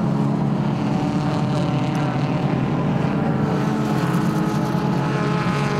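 Identical 1.9-litre BMW Compact Cup race cars roar steadily around the Snetterton 300 circuit, a dense continuous engine drone from several cars at once, loud and sustained with no break.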